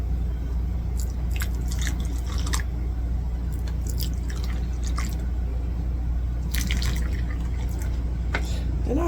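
Tomato seedlings in wet compost being watered from the top, with soft drips and splashes scattered over a steady low background hum.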